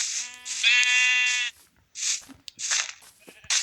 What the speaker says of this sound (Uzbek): Qo'ylar juda ko'p.